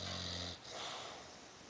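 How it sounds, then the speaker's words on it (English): A dog snoring, one low rumbling snore heard up close that fades into soft breathy wheezing, brief and fairly quiet. "This is the dog snoring."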